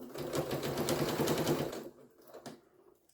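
Sewing machine running a stitch length of 3.0 while piecing a scrappy fabric Easter basket, a rapid, close mechanical chatter for about two seconds, then a few short bursts after it stops.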